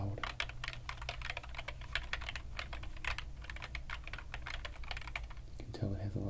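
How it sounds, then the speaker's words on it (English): Rapid, dense clicking of an old Mac keyboard's plastic keys being typed on, close and continuous, with a clattering rhythm throughout. "You can tell it has a lot of plasticky clicking sounds."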